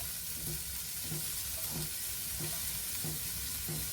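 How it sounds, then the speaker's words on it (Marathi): Steamed green peas sauté in a pan for a sprouted salad, giving an even, continuous sizzle with soft, regular stirring scrapes about every half second, close up. "आता यामध्ये मी हिरवे वाटाणे घालते वाफवलेले, थोडे परतून घेऊया."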